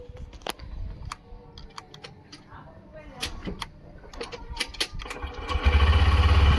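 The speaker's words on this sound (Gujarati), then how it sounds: "બાઇક સ્ટાર્ટ કરી નાખી છે" A motorcycle engine sputters and catches, then settles into a loud, steady idle up close, with clicks and handling noises before it and voices talking over the start.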